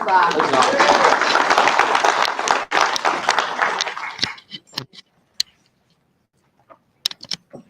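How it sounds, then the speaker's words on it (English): Round of applause from an assembled crowd at a medieval arts and sciences championship court, loud dense clapping for several seconds that abruptly dies down to scattered claps and a few stray noises. "Please, a round of applause for my apprentice."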